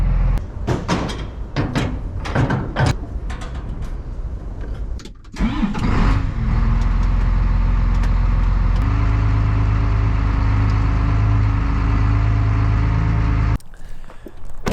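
A John Deere-style 8110 farm tractor diesel is cranked with a few sputtering turns, then catches and settles into a loud, steady idle that runs close by for several seconds before cutting off abruptly.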